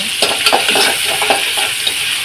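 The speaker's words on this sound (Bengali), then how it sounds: "মুরগিটা ভেজে নেব, মুরগিটা ভাজতেছি।" Chicken fries in a pan with a steady crackling sizzle, broken by the scrape and clatter of stirring, close and fairly loud.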